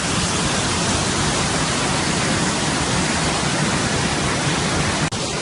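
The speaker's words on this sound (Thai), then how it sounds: "ชมความงามของน้ำตกผาซ้วมกันโดยรอบอีกสักเล็กน้อยนะครับ" Pha Suam waterfall rushes in a loud, steady, unbroken roar of falling water, dense and close throughout, with only a brief dip near the end.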